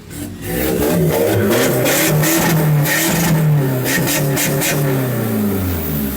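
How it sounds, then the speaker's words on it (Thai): A Mitsubishi Triton 1.9 diesel pickup engine revs loudly up close, the pitch climbing and falling in sustained surges with a rough, throaty rumble. "เดี๋ยวเรามาฟังเสียง เครื่องยนต์กันนิดนึงนะคะ"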